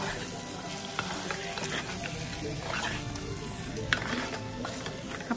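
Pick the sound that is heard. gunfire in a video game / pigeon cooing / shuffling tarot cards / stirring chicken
stirring chicken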